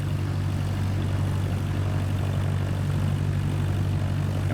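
Steady propeller aircraft engine drone inside Microsoft Flight Simulator 2024 on PS5, a continuous loud low hum at high RPM with no change over the whole stretch, and no talking.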